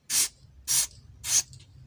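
Three short, sharp hissing bursts of cleaning spray hit the circuit board of a Sharp Piccolo Slim 21ES251E2 TV, evenly spaced and close, with quiet gaps between.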